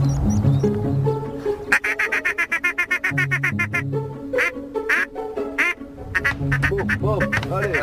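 Ducks, a teal among them, quack loudly and rapidly at a hunting pond in the Baie de Canche, with bursts of close calls and honking geese-like notes while people talk in French.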